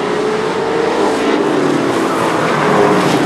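A race car on a short oval track loses control while heading deep into the corner, its engine roaring loud and steady with a faint tire skid woven through the drone.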